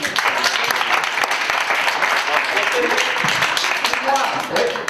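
Audience at an interactive theatre forum on Alzheimer's breaking into applause, a thick continuous patter of many hands clapping nearby, with scattered voices beneath.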